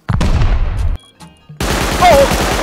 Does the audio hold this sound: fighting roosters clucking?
no